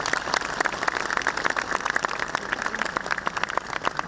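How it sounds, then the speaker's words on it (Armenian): A crowd at a church procession breaks into sustained applause, steady and fairly loud, with many hands clapping at once and no pauses. "Մեր այսօրվա երթին ծափահարենք տաքանակ մի քիչ"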